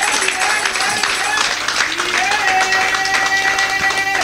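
A church congregation applauds the Lord, with sustained clapping and cheering mixed with voices and tonal sounds.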